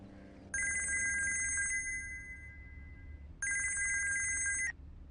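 A telephone rings in two electronic bursts, each a bright trilling tone lasting over a second, separated by a pause and heard indoors against a quiet low hum.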